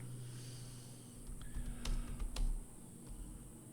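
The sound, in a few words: typing a question on a computer keyboard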